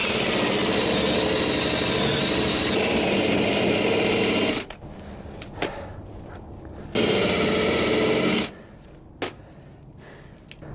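A heavy-duty wheel on a power tool grinds rust off a vehicle body in two loud, sustained bursts of roughly four seconds each, separated by quieter stretches with faint knocks.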